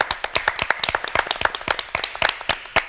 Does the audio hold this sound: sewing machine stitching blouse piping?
no